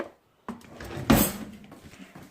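A drawer slides open indoors, a short wooden scrape and thump after a brief quiet moment, followed by faint handling noises close by.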